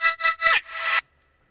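Bright Serum synth lead built from seven detuned voices with hyper effect, playing three short stabs and then a longer held note that cuts off, heard alone.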